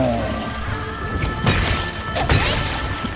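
Two heavy thudding stomps from a monster in Monster Hunter Rise land about a second apart over a busy game soundtrack, booming crashes with rumbling low ends.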